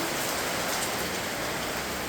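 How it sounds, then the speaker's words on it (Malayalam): Steady, dense hiss of heavy rain pouring down, continuous and even throughout with no voices. "ഇതാ കണ്ട നല്ല മഴ പെയ്യുന്നു"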